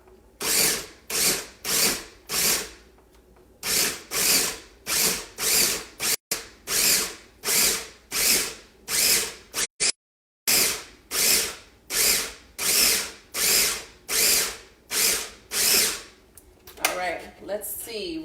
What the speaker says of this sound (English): So I'm going to go ahead and just grind this up.